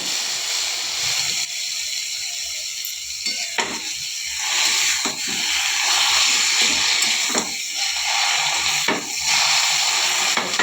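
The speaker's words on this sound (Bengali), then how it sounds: "এবারে কচু শাকটা দিয়ে দেব।" Taro leaves hit a hot pan and sizzle loudly and steadily throughout, with occasional stirring scrapes breaking through the constant frying hiss, and no one speaks.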